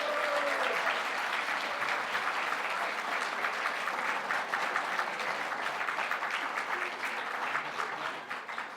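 An awards ceremony audience for young people breaks into sustained, full applause, a thick wash of many hands clapping continuously for several seconds before easing slightly at the end.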